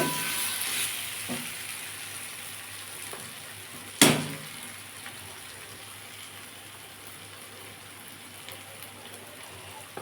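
Maan kochu paste sizzles steadily in a hot pan with garam masala as it is stirred; there is one sharp scrape or clank partway through, and the continuous frying hiss stays close and even.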